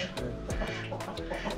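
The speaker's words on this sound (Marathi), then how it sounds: "इथे काय कोंबड्या वगैरे आहेत" Chickens clucking in a farmyard compound that also keeps ducks, with several short, close clucks and calls in quick succession.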